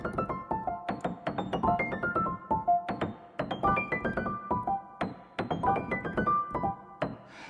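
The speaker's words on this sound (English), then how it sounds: "you hear that nice like kind of clicky sound of the action of the piano" Piano with audible clicky key action plays a rhythmic, fairly dense pattern of struck notes within a song arrangement, close and steady over several bars with no voices.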